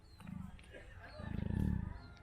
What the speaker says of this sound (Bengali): এটা হচ্ছে এমুর ডাক,